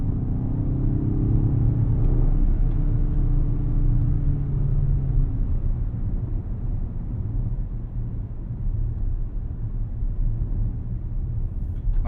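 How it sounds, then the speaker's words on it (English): A 2024 BMW XM accelerating through a quiet neighborhood, its engine a deep, steady rumble that swells briefly early on and then settles into a smooth, even drone heard from inside the car. "Give it a little gas real quick."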